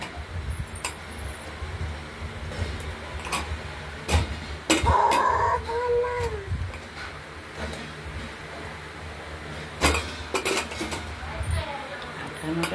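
Sharp metallic clanks and clicks ring out at intervals as a pressure cooker lid is set and locked over cooking lentils, with people talking quietly in between.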